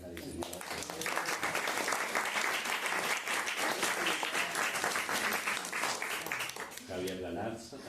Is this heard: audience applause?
yes